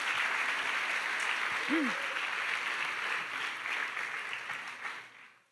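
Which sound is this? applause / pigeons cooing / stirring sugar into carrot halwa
applause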